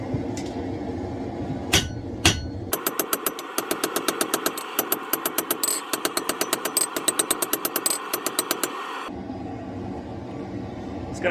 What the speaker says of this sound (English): And back to the hammer.